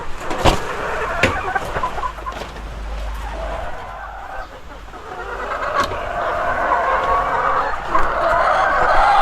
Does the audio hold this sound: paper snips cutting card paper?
no